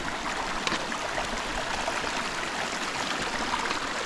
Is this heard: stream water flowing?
yes